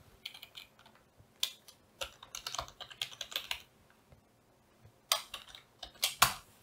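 Someone types code on a computer keyboard in quick irregular clusters of crisp, close key clicks with brief pauses between bursts, quiet and with no talk over it.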